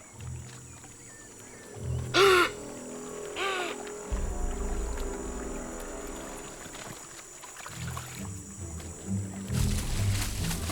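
Rodents give alarm calls at a jaguar threat in the wild: two sharp, loud, squealing barks stand out early, with low grunting calls and rustling around them in an outdoor riverside setting.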